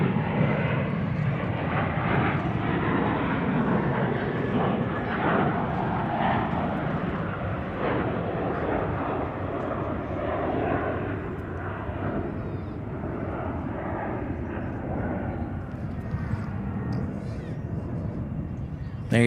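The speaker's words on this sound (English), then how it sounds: "Here's another A321 taking off." An Airbus A321 airliner takes off at Charlotte Douglas International Airport, producing a steady distant jet roar that lasts the whole time. Voices talk faintly over it.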